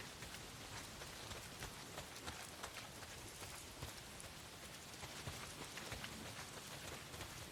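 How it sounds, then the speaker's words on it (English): Heavy rain pours steadily in the video game Days Gone, a dense, continuous downpour drumming on surfaces at a constant loud level throughout, with no voices. "A lot of it's pissing down rain."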